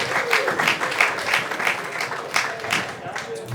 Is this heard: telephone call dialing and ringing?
no